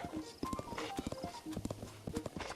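Horse hooves clip-clopping at a steady trot in the game Zelda Breath of the Wild, rhythmic close hoofbeats with a few soft in-game sounds around them.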